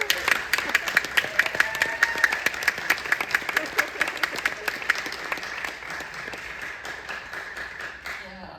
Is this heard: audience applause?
yes